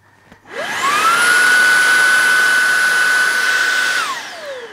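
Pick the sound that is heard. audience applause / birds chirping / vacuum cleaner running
vacuum cleaner running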